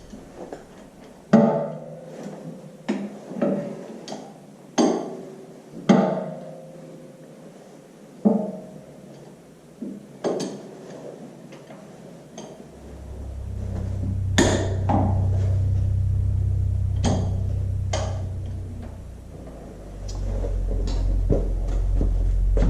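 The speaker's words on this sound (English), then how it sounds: "I'll have to break them loose, this breaker bar." A breaker bar loosens cap screws on an IHC Farmall Super MTA tractor during engine removal, giving a series of sharp metallic clanks and knocks, followed by a low, steady rumble.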